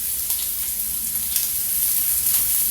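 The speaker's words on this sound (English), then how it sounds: "we're going to go ahead and throw our onions in right away" Onions sizzle steadily as they fry in hot oil in a pan for a tomato basil pasta, a close, continuous crackling hiss with no voices.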